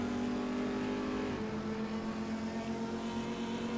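A Ferrari race car engine in the Assetto Corsa racing game, a steady droning tone that shifts pitch briefly as if changing gear, loud and continuous.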